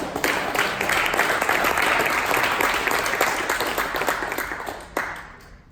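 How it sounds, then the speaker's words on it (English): A seminar audience gives a round of applause, dense steady clapping from many hands that holds for several seconds, then thins out with a final spike of claps before fading. "Give a round of applause."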